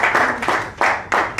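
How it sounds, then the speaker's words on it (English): Applause and cheering for Tracy Schroeder, a candidate for Assembly 46, at a San Fernando Valley Republican Assembly meeting; several loud, close bursts of clapping rise and fade in quick succession. "Tracy always gets the best applause"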